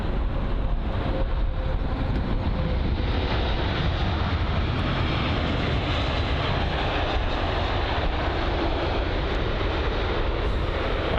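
An Ethiopian Airlines Airbus A350-900 at London Heathrow gives off a continuous broad jet-engine roar, steady and fairly loud throughout, with no talking.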